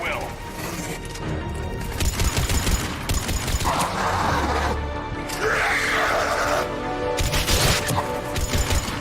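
Gunfire in the video game Mass Effect 3, a dense fusillade of rapid shots and crashes mixed with game music and combat noise, running throughout with voices talking over it.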